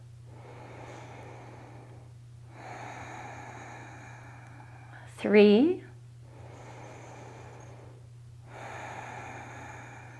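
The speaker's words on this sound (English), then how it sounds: "you're going to inhale and breathe out through your nose." Slow, long breaths in and out through the nose during a kids and parents yoga exercise, several soft breathy swells alongside a steady low hum, with one brief sharper sound in the middle and a voice counting.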